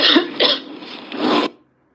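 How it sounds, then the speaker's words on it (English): A woman coughs in a Robitussin cough medicine advert, three rough, chesty bursts in quick succession, close and fairly loud, ending abruptly in silence. "that cough looks pretty bad"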